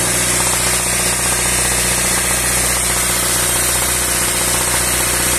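Car engine held near 2000 rpm during an internal engine flush, running loud and close in a steady, rough drone with a faint rhythmic knock from the valvetrain, unbroken and without talk.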